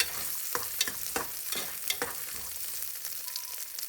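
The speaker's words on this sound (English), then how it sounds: "Saute for a minute so that the garlic is slightly brown." Steady sizzling of ginger and garlic sautéing in a pan on low heat, with intermittent scraping stir strokes, close and continuous.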